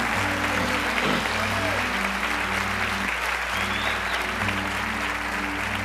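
A church congregation at a Baptist evening service claps together in sustained applause, a dense, even roar of hands over a low background hum, with some voices mixed in.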